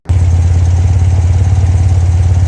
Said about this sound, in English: start up the engine again, and then we're gonna check our basic idle balance.